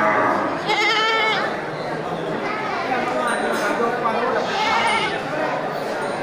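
Goats and sheep bleat repeatedly at a busy livestock market in Bireuen, loud and close, amid a steady murmur of people chatting nearby.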